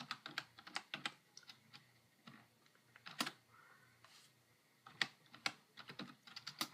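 Commands typed on a computer keyboard for a Raspberry Pi, bursts of quick clicky keystrokes with short pauses, close and clear.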